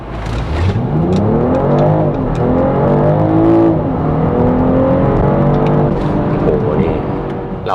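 A BMW X5 50e M Sport xDrive accelerates hard from 0 to 100 km/h, heard from inside as a loud, sustained drivetrain tone that climbs steadily in pitch, with a voice faintly beneath it.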